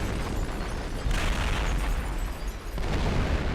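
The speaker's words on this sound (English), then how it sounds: "Yeah, you can see they just blowing shit up." British artillery shells explode in Company of Heroes, a continuous wall of heavy booms and bursts with rumbling blasts overlapping, loud and dense throughout, swelling after the first second.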